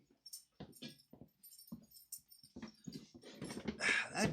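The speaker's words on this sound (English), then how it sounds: "No barking." A dog indoors during a live home broadcast gives a string of short, sharp vocal bursts, barks mixed with whiny yelps, close to the microphone and growing louder and denser toward the end.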